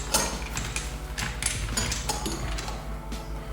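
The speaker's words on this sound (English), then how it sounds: "So what we're going to do is this part screws in." A pressure washer quick-connect fitting, the M22 connection for the hose, is screwed into place by hand, giving a run of faint close metallic clicks, ratcheting ticks and small scrapes.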